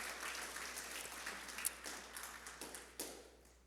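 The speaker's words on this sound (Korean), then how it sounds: "우리 격려의 박수 해주시기 바랍니다" A church congregation offers encouraging applause during a Sunday service, a soft, faint patter of clapping with a few louder claps near the end, fading gradually.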